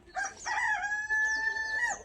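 A desi country hen on a farm gives one loud, close cackling call, sharp broken notes and then a long drawn-out cry, with no talk.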